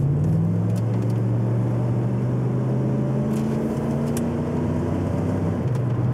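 A V8 car accelerating through town, with a steady, loud low engine drone and a rising tone as it pulls forward, heard from inside the car with no talk.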